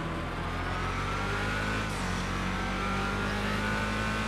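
Engine of the Hellfire car in GTA Online running under steady throttle as it is driven, a loud, continuous, deep engine drone with a slight tonal shift partway through and no talking.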